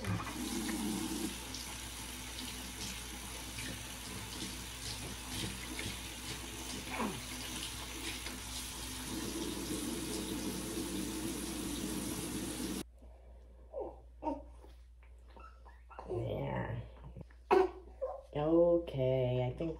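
Water running steadily from a tap while a newborn is rinsed, a loud continuous rush for most of the stretch, then it cuts off and people talk over quiet room sound.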